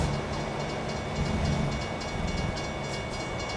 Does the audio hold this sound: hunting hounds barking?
no